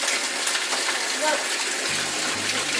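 Tap water gushes steadily into a nearly empty detergent bottle and is swished around inside it, a loud continuous rushing pour close to the microphone.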